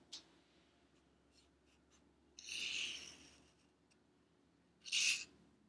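A marker writes an uppercase letter T on a surface, two distinct scratchy strokes, the first longer and the second short, close and quiet with no talking.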